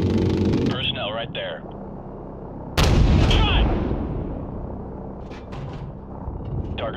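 Heavy gunfire in a realistic military video game, a booming shot that bursts loud mid-clip and rumbles away, with radio-style voices talking over the action.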